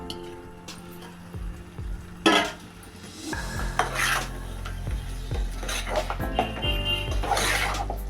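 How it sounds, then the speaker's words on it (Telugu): Mutton pieces tipped into a pan of frying masala for a dosakaya curry, with metal spoon scrapes and clinks against the pot, a sharp clatter as the meat goes in, then steady sizzling and stirring. "కలిపిన తర్వాత మటన్ వేసుకోవాలి"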